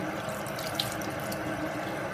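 A sink tap runs in a steady, close stream to wet a paint brush, giving a continuous even splash and gush with no pauses and no voices.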